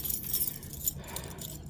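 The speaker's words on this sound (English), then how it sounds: "Let me get these keys." A bunch of keys jingles and rattles close by, a continuous bright metallic jangling that stays fairly loud with small clinks throughout.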